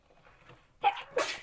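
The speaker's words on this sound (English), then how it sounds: "you sneezed on me" One sneeze from a person indoors, a short breathy intake followed by two sharp bursts of the sneeze, close and fairly loud.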